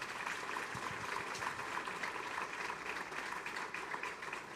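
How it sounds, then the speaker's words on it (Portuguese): Faint, steady applause from a church concert audience, a soft continuous patter of many hands with no voices over it. "vamos receber a Márcia também com a salva de palmas."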